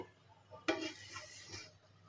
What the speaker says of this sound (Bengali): এখন আমি একবার নেড়ে দিব